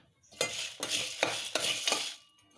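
Whole spices for garam masala dry-roast on low flame in a pan, stirred in four scraping, rattling strokes close up with a little soft crackle between them.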